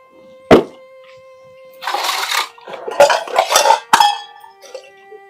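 Pots, pans and dishes clatter in short, uneven bursts as they are washed by hand in a rural Haryanvi home, with an early sharp clank and then several busy rattling clusters close by.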